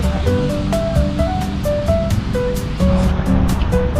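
Surf rolling in at Copacabana Beach in Rio de Janeiro, a loud, continuous wash of waves close by with a busy beach around it.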